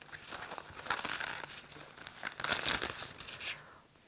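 A thin acrylic paint skin peeled off a plastic surface gives close, soft crinkling and tearing, in two main bursts with quieter crackles between.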